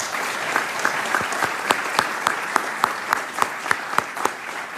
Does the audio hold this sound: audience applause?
yes